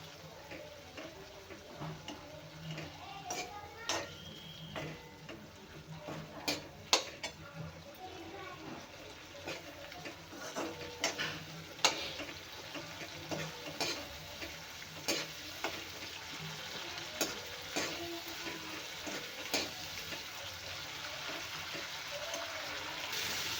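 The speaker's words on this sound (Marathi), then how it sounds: "भाजून घेणार आहे मी म्हणजे मॅश होईपर्यंत शिजवून घेऊया" Tomatoes roast in a pan and get stirred, a soft sizzle beneath repeated scraping and clicking of the spoon against the pan, moderately quiet and close, with faint talk in the background.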